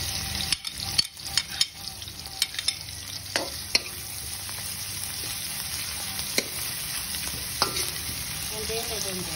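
Garlic sizzling and frying in a pan for a coconut-milk crab dish, a steady close hiss broken by clinks and scrapes of stirring, with no talk.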